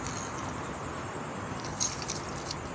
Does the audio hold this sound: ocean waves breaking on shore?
no